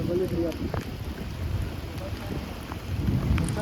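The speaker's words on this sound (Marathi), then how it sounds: "पाऊस खूप पडतोय" A steady wash of heavy rain roars close by, with a low rumbling undertone and gusty, wind-like noise throughout.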